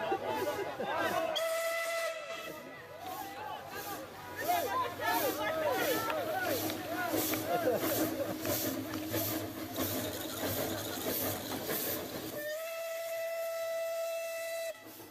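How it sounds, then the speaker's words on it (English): A train sounds its whistle as it passes through a football stadium in Slovakia during a match, loud sustained horn tones over a continuous crowd babble, then a long, steady final whistle blast from about 12 seconds on. "you may see a train passing by."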